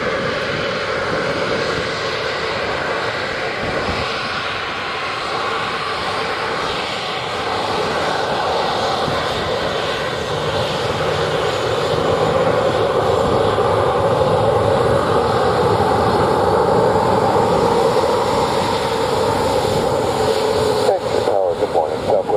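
Airliner taking off from runway 07 at Montego Bay, Jamaica: a loud, steady aircraft engine roar that builds slightly over about twenty seconds, with radio-like chatter faintly mixed in.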